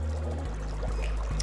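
Water pours into a glass or cup for a drink, a brief close trickle and splash with no talking.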